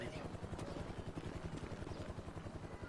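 A helicopter in a video game drones steadily with a rhythmic low rotor thump throughout, quiet in level, with faint speech-like sound underneath.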